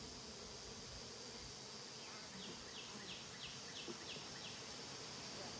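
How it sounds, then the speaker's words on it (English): Honey bees fly around an open hive during an inspection, making a dense, steady buzzing hum that fills the whole stretch, with a few faint chirps midway. "See all these bees flying around?"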